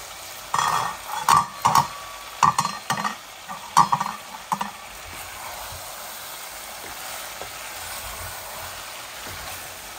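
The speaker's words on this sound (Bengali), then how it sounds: "এইভাবে নাড়াচাড়া করে অল্প একটু ঝোল দিয়ে দিব, যাতে আলুগুলা সিদ্ধ হয়ে যায়" Several short bursts of stirring potatoes in a pot over the first five seconds, spoon scraping and clinking through a wet mixture, then a quiet simmering hiss.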